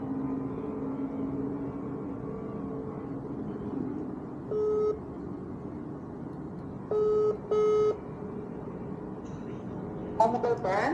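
A phone ringing out on a call, three short electronic ring bursts spaced a few seconds apart over a low room hum, followed by a brief flurry of tones near the end.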